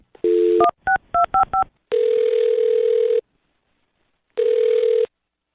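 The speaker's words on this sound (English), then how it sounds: "I'll dial her phone number right now" Telephone number being dialed: a run of short keypad tone beeps in quick irregular rhythm, then two long steady ringback tones separated by a pause, clear and alone with no talking.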